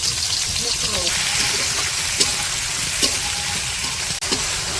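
Onions frying in a scorched wok over a clay stove make a constant hissing sizzle, with faint stirring scrapes now and then and people talking over it.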